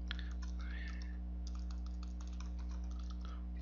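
Typing on a keyboard while entering a command on an HP Prime graphing calculator: a quick run of soft, close key clicks over a steady low electrical hum.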